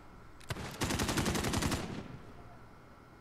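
Rapid gunfire from a .357 revolver in a shooter video game: a quick burst of close cracking shots lasting about a second, then a fading tail, fairly quiet overall.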